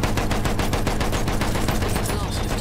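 Battlefield 1 gunfire rattles in fast, rhythmic machine-gun bursts, loud and close, continuing steadily across the whole stretch.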